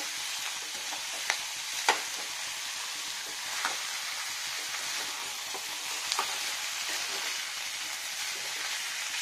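Chicken sizzling in a pan with tomato and capsicum, a steady soft frying hiss with occasional sharp pops and spatula scrapes, close and fairly quiet, no talking.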